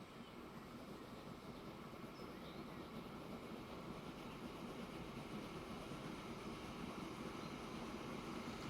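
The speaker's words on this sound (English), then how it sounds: "the passenger train's going to have to wait for the freight train to pull through." A freight train rolling through in the Transport Fever 2 railway game, a faint, steady rumble and rattle of wagons that continues without a break.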